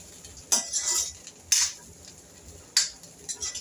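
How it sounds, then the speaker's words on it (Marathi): A spoon scrapes and clinks against a pot while fried cashews and almonds are stirred into coconut rice, three distinct scraping strokes spaced about a second apart, close and moderately loud. "आता इथे काजू बदाम मी जे तळून घेतले होते ते यावरती टाकायचे आहे. ह्यालाही छान असं मिक्स करून घ्यायचं आहे."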